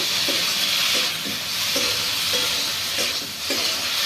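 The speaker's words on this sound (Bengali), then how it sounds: "এবারে বেশ ভালোভাবে কষিয়ে নেব" Gandal leaf kopta masala with tomato, salt and a little sugar sizzles loudly in a pan while being stirred and sautéed. A steady hiss of frying runs under repeated scraping strokes of the spoon.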